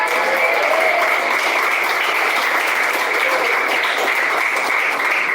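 A church congregation applauding, with dense, steady clapping from many hands that fills the space, loud and sustained throughout without any pause.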